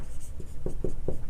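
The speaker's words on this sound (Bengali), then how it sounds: "তো লিখব যে 80" Pen or pencil strokes on paper while numbers are written out for a sixth-grade maths exercise, a few short scratchy taps in quick succession, soft and close.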